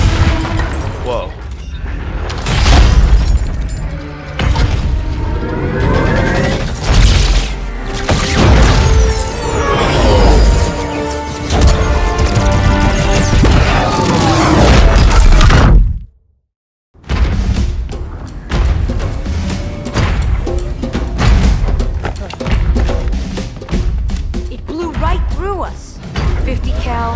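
Rocket blasts and gunfire in a Halo 2 cutscene, with a string of heavy booms and thuds mixed among dense action sound and a brief drop to silence partway through, while voices speak over the scene.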